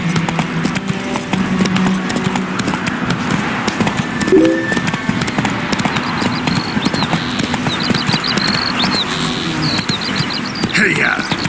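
Hooves of the horse Roach clip-clop steadily in The Witcher 3 as it gallops along, a continuous rhythmic patter under game ambience, with a voice calling out over it.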